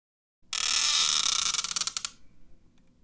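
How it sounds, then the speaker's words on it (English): Squeaky joints of a Cang Toys CT-01 Ferocious action figure being moved produce a loud, harsh, close-up creak that starts abruptly, holds for about a second, then breaks into a series of rapid stuttering squeaks before fading. "Ferocious does have some squeaky joints, which can be painful on the human ear."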